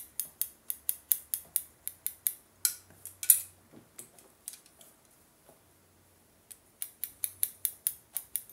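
Hair scissors snip through hair during a dry haircut on short hair, a quick rhythmic run of crisp close-up clicks, a brief pause, then another fast series of cuts.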